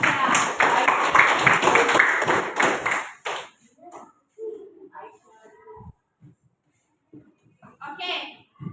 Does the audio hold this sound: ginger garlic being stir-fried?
no